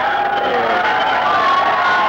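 A football stadium crowd at a 1994 Plymouth State College game cheers loudly and steadily in a dense, sustained roar of voices and whoops as the clock winds down.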